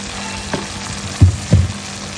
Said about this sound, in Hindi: अब मैं इसमें डालूंगी चीनी।